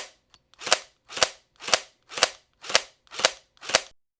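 Seven sharp, evenly spaced cap-gun-like shots from a Quest 3 haptic gun stock in single shot mode, each a crisp crack fired about once every half second, close and alone.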